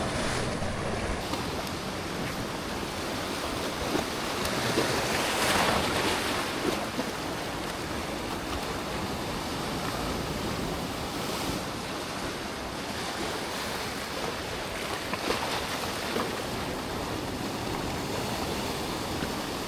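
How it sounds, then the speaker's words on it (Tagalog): Strong ocean waves crash and wash steadily against a rocky shore where someone is fishing, a loud, continuous roar of surf with wind buffeting the microphone and no voices. "malakas na yung alon dito"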